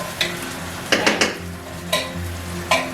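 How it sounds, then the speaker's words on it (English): Chicken curry ingredients with their juices being stirred in a skillet: a low sizzle underneath a handful of distinct spoon scrapes and clacks against the pan, close and clear, without speech. "I'm just going to stir that together and get it all going."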